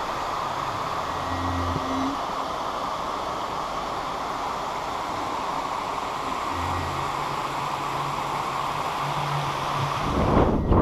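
Steady rushing water pours continuously over a river weir, a broad even wash of sound with faint low rumbles beneath and no voices.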